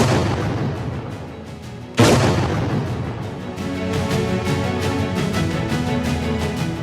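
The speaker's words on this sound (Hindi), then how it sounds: "धमाकों से दहला पाक।" A loud explosion bursts suddenly and is followed by a long rumbling roar and crackling debris, with a heavy, sustained low boom throughout, reported from unrest in Pakistan's Balochistan region.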